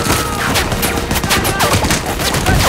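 Rapid gunfire rattles through a World War II tank battle, dense overlapping bursts of shots and fusillades, loud and close throughout.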